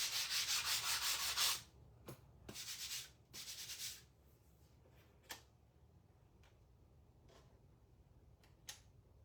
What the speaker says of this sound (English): I'm going to do a light sand over this.